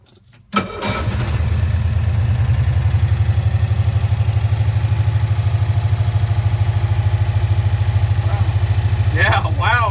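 A 1965 Cushman Truckster engine, temperamental after sitting over a year, cranks and catches, then settles into a loud, steady, throbbing idle close by with its choke and throttle being adjusted, and brief voices near the end.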